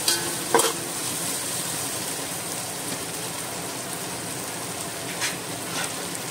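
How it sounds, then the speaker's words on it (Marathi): Ginger garlic paste fries in a pan with a steady, dense sizzle throughout, broken by a few clinks of stirring near the start and once more toward the end. "ताका मिक्स करून घेता आनी 2 सेकंड मातशें ताका फ्राय करता."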